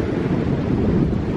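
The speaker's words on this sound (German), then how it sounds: "Und ist auch noch relativ schwach der Wind" Steady wind blowing along the Mediterranean coast, with choppy sea nearby; a constant broadband rush with low buffeting against the microphone, loud and continuous with no talk.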